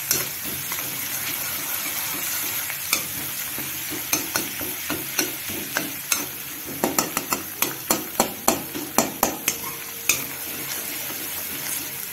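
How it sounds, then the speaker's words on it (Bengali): Chopped garlic and chillies frying in white oil in a wok, a steady close sizzle punctuated by a run of rhythmic spatula scrapes and taps against the pan. "কড়াতে সাদা তেল দিলাম এবং এর মধ্যে দিয়ে দেব রসুন কুচিটা"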